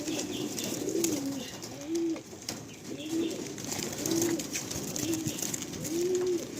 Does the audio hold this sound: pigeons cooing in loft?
yes